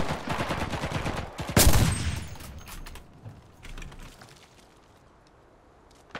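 Gunfire in the video game Enlisted: a rapid rattle of shots followed by one loud blast, then the firing fades into quieter scattered clicks and movement noises.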